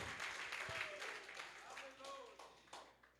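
A church congregation applauds, a soft, steady wash of clapping heard at a distance, with voices and tonal sounds mixed in.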